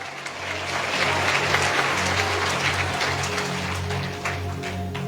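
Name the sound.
loud applause from church congregation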